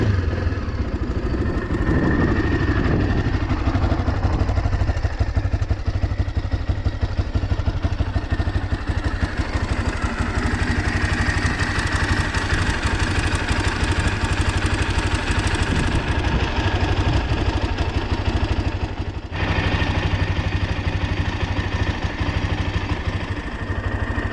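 A cold Kovi ADT 300 motorcycle engine idles steadily up close for a long stretch, its throttle blipped a few times, with a brief cut before it picks up again.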